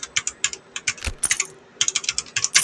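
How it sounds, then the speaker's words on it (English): Fingers type on a computer keyboard in quick, uneven bursts of crisp clicks and taps, close and clear, with a short pause in the middle before the rapid keystrokes resume. "Let me type this in."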